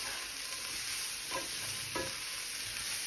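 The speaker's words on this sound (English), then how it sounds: "when you get peppers and onions in a cast iron pan like this and saute them" Peppers and onions sautéing in a cast iron pan, a soft steady sizzle with a couple of faint stirring scrapes, quiet and close.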